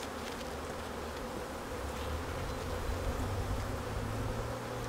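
Honeybees buzz steadily around an open hive with honey frames pulled out, a dense, even hum of many insects at moderate loudness with no talking.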